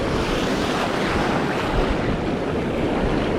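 Steady, loud roar of ocean surf rolling onto an Oregon beach, continuous wash of breaking waves mixed with wind buffeting the microphone, with no pauses.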